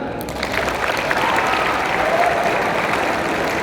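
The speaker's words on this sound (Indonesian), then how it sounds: "Tepuk tangan." Steady audience applause at a Maulid Nabi religious gathering in a high school hall, sustained and fairly loud across the whole stretch with a faint voice or two mixed into the crowd.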